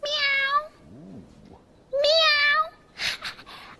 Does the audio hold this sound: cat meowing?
yes